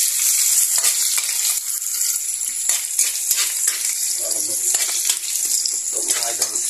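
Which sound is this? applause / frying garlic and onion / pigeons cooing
frying garlic and onion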